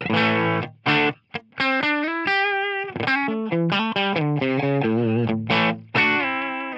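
Distorted electric guitar through an AmpliTube amp simulation and a white 2A-style compressor plugin, playing a melodic lead line with sustained, squeezed notes and chord stabs, loud and up close.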